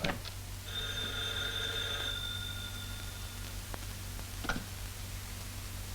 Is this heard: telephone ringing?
yes